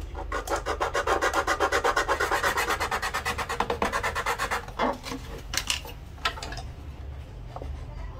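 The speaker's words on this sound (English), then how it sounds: "Now we're going to use sandpaper to refine the contacts at the feet." Sandpaper refining the feet of a violin bridge, heard as a fast, even back-and-forth rasping close by that slows into a few separate scrapes before stopping, with no speech.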